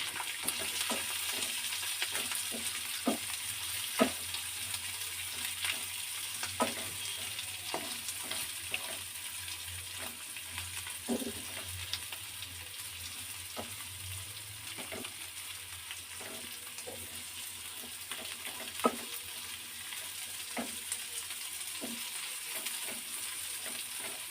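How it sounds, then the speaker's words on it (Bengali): Sliced onions frying in a pan for paneer butter masala, a steady soft sizzle throughout with scattered clicks of stirring, moderately quiet and close, no talking. "পেঁয়াজটা একটু ভাজা ভাজা হয়ে এসছে।"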